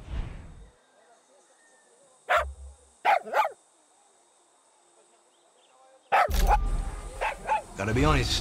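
A dog in Far Cry 6 barks in short sharp bursts with long quiet gaps, a couple of yips and then a run of louder barks and whimpers near the end, close and clear.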